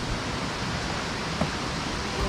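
Neergarh waterfall near Rishikesh gives a steady, close rushing roar of falling water with no voices.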